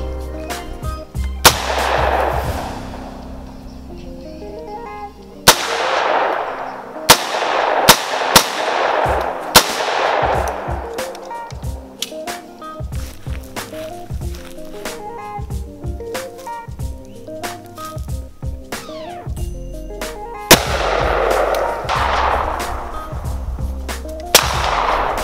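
Repeated .50 caliber Desert Eagle pistol shots fired at a car hood, a dozen or more sharp, loud cracks at irregular intervals, each trailing off in an outdoor echo, with faint background sounds between shots.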